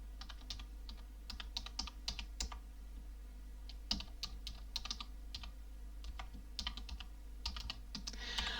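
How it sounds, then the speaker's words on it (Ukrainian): Typing on a computer keyboard: irregular bursts of light, crisp key clicks, close and quiet, with brief pauses between runs over a low steady hum. "Давайте ми збільшимо відступ і надрукуємо місяці."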